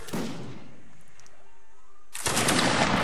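Musket fire in a video game line battle: a loud burst of crackling gunfire at the start, a quiet gap with faint ambient tones, then another heavy close volley erupting near the end.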